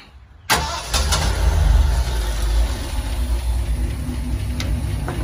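A 1953 Ford F100 pickup, left sitting for three months, cranks briefly and catches, then settles into a loud, steady rumbling idle close by, with the engine note rising slightly before evening out.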